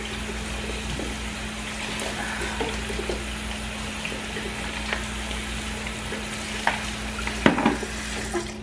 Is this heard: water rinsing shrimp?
yes